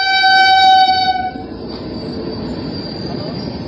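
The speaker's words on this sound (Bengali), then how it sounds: "এই হচ্ছে আমার ভারত ভ্রমণের সর্বশেষ লোকাল ট্রেন" An Indian local train sounds a loud, sustained horn blast that cuts off after about a second, followed by a steady rumble and rattle of the moving carriages.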